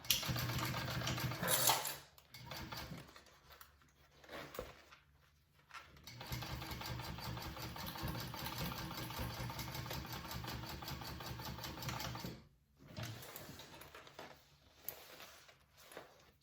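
A sewing machine runs in long bursts while top stitching a Colette bowler bag, a steady rapid mechanical whir with brief pauses between runs, close and alone.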